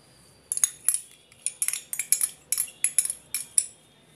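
A spoon stirs a batter of semolina, rice flour and curd, tapping and clinking against the bowl in a quick, uneven rhythm of about a dozen sharp metallic strokes.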